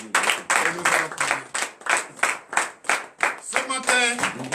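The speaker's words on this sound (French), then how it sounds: "donnez de vives acclamations à notre Seigneur Jésus" A congregation at a morning prayer service in Benin claps in a steady, even rhythm of about three sharp claps per second. Voices cheer and call out over the clapping throughout.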